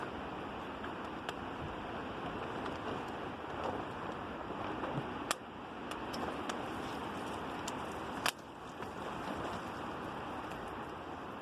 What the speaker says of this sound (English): Pretty windy, but not bad in here. I mean, you might hear it in the trees